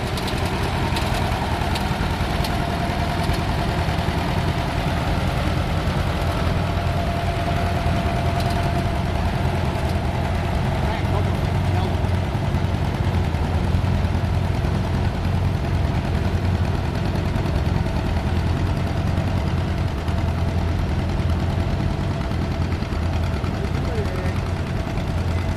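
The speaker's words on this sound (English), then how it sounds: "John Deere 8 bringing around down the track." A John Deere tractor engine roars steadily at a tractor pull, loud and sustained with a low throbbing drone for the whole stretch, while an announcer talks over it.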